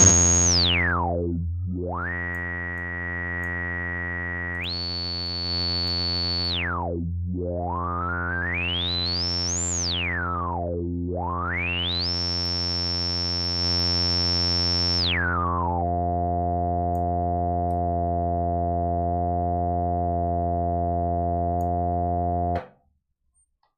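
Reason 13 beta software synthesizer tones sweep up and down in pitch through a resonance filter, holding bright buzzy notes between glides, ending on a steady low tone that cuts off abruptly; a voice briefly exclaims.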